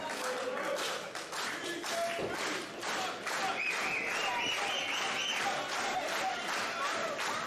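A sold-out wrestling crowd at a World Series Wrestling match claps and cheers in a steady, dense wash of applause, with a commentator talking over it throughout.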